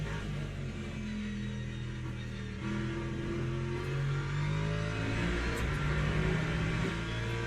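Race car engine in Le Mans Ultimate, a steady droning whine that rises and falls through gears, loud and continuous with no voices.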